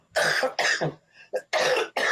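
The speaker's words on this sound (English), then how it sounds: "sorry about this cough" A series of harsh, close allergy coughs, five or six bursts in quick succession with brief pauses, loud and without talk.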